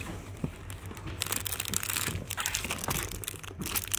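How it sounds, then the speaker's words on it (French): Crinkly plastic rustling and crumpling as a pack of 50 plastic envelopes is handled, continuous irregular crackles close to the ear, fairly quiet over a low background hum. "C'est des enveloppes en plastique. C'est un pack de 50 enveloppes"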